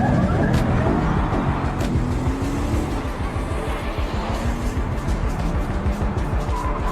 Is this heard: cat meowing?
no